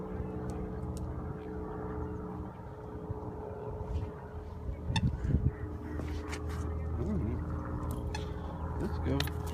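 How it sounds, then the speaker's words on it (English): A low, droning airplane engine rumbles over a park near an airport as planes take off and land, a steady roar with voices and scattered outdoor sounds over it. "we're near the airport, so you get a lot of airplanes taking off and landing"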